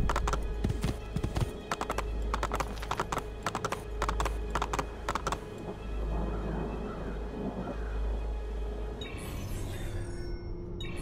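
Horse hooves clip-clop in Assassin's Creed 2, a rapid run of sharp beats followed by softer galloping and a brief whinny-like sound near the end.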